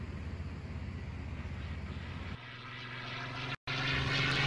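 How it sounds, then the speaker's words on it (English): A propeller airplane passing overhead in a game, heard as a steady, broad engine roar that shifts tone partway through and is briefly cut off by a dropout before returning louder. "Here comes the plane now."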